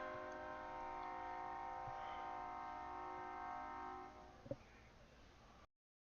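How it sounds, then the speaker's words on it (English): A train rolls past with its horn sounding in long, steady tones, loud and close. The horn holds for about four seconds, then a brief clank is heard as the rumble fades out. "Train coming."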